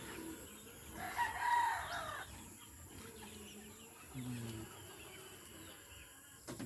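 Gamefowl roosters in a chicken coop, a near crow followed by softer clucks and distant crowing calls over a quiet background hum.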